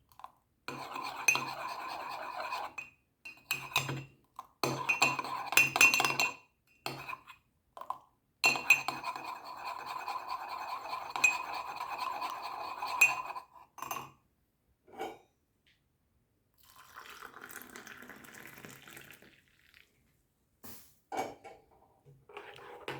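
A spoon clinks repeatedly against a glass or mug while stirring a Horlicks drink, in quick, bright bursts with short pauses, fairly close and moderately quiet, then a softer scraping stir toward the end.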